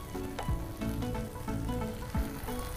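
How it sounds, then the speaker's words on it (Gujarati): Water added to a sizzling rajma and corn mixture in a pan, a loud crackling fry with bursts of bubbling and stirring scrapes, steady throughout. "1/2 કપ જેટલું પાણી ઉમેરીશું અત્યારે."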